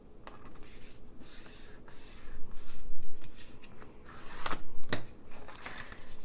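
Sheets of 6x6 paper are folded by hand for a mini pocket album, producing close crisp rustles and soft creasing swipes in uneven bursts, with a couple of sharper crackles toward the end.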